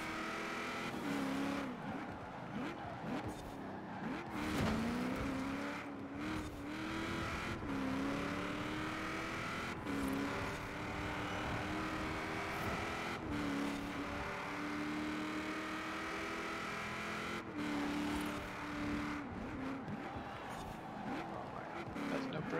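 Race car engines in Forza Horizon 4 during an autumn seasonal event drone and rev loudly and continuously, pitch rising and falling with gear changes and passing cars, while someone talks over the racing.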